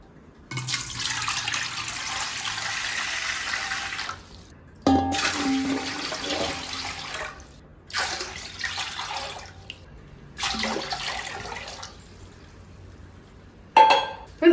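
Water is poured in several bursts, each lasting a few seconds with short pauses between, as four measures of water are added to rice for cooking kuzh vadagam.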